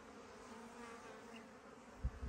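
Honeybees buzzing around a hive at an apiary, a steady faint droning hum of many wings in the background, with a couple of brief low thumps near the end.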